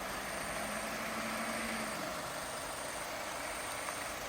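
Vehicle backing away along a forest road near large wild elephants in Khao Yai, heard as a steady broad engine and road rumble with a thin high tone running throughout, no voices.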